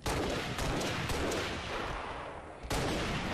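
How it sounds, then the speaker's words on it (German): Sniper rifle fire in the video game Halo Reach, heard as loud, dense gunfire with sharp blasts. A burst of cracks comes near the start, and a sudden shot lands near the end, with no talking. "Ein Schuss noch mit der Sniper."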